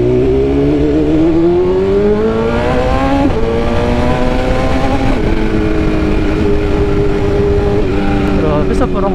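A 2022 BMW S1000RR sport bike engine drones loud and close throughout, its pitch climbing sharply as it revs, then settling into a steady high tone over constant rushing noise.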